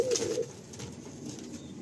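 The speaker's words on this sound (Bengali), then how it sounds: "এটা হলো মেল, একদম বুলেট পায়রা, আর এই হলো ফিমেল।" Madrasi pigeons coo inside a loft, a soft, low rolling call near the start followed by quieter murmuring and faint rustling, close by and without talk.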